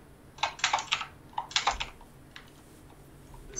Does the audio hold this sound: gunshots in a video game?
no